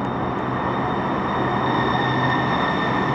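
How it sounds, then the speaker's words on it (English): A train rolls into a station platform with a steady, loud broadband rumble and a faint sustained whine, continuous throughout with no voices. "Please stand behind the yellow line until the train stops."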